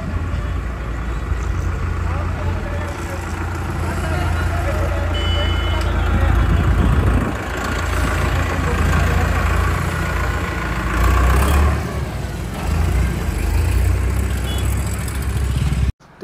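Engines of Digitrac PP 46i tractors and a loader run together at idle nearby, a loud, continuous mechanical drone with brief beeping, and a voice speaks over it.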